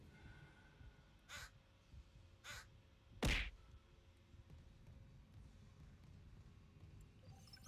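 Crows cawing in a video game: three separate harsh caws spaced a second or so apart, the third the loudest, over a quiet ambient background.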